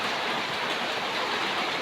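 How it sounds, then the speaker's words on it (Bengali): Heavy rain pours down outside a rural Bangladeshi home, a dense, steady, unbroken roar of falling water that fills the whole moment with no voices. "বাইরে প্রচুর পরিমাণ বৃষ্টি হচ্ছে"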